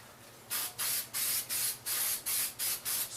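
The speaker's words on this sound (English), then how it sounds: "Now you want to spray the part that folds in with the spray adhesive" Spray adhesive hisses from an aerosol can onto the lining of an antique trunk in about eight short, sharp bursts in quick succession, close and clear.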